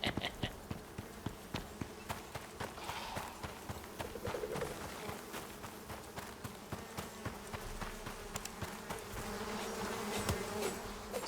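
Insects buzzing in the game Icarus, a dense, steady drone with scattered clicks and birdlike chirps throughout, fairly close and continuous, with no talk over it.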